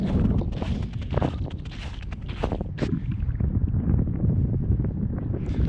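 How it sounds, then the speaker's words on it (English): Wind gusting across wide, snow-covered open ground, a steady rough roar buffeting the microphone, with a few crunching footsteps heard along the way. "Just kind of walking out to see if I can get a sense of how strong the wind is."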